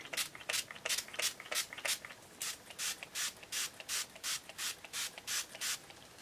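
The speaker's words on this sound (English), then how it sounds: "I'm going to use this Project Beauty Spray Set Go Makeup Setting Spray." Makeup setting spray (Project Beauty Spray Set Go) misted from a pump bottle in about sixteen short, evenly spaced hissing bursts, close and fairly quiet, with no talking.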